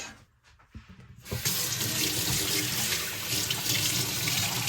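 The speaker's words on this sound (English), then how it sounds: "wash this lemon." A kitchen tap gushes steadily into a sink as a lemon is rinsed under it, loud and close. A few faint knocks come first, then the water runs on unbroken.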